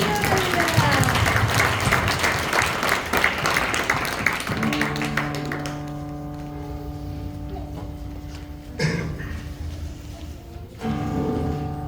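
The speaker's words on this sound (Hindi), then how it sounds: "एक बार हम जोरदार परमेश्वर के हम ताली बजाएंगे" Congregation at a Christmas worship service in India claps loudly and densely for several seconds, then the applause fades under sustained music tones, with brief bursts of clapping returning near the end.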